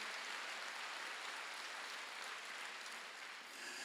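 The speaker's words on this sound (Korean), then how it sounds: "박수" Congregation applauding during a Wednesday worship service at Jesus-Centered Church: a soft, even wash of many hands clapping at a distance, sustained without pause and quite faint.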